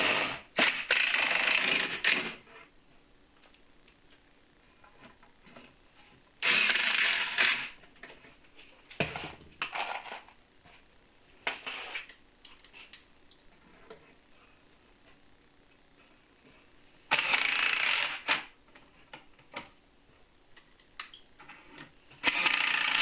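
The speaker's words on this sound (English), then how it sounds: "here I'm going to screw in the top rails." Top rails of a wooden farmhouse bench being fastened with pocket hole screws, three long bursts of a power drill driving screws, separated by quieter stretches of light clicks and handling knocks.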